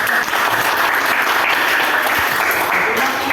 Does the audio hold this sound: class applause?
yes